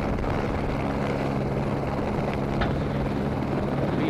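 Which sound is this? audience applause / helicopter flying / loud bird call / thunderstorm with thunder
helicopter flying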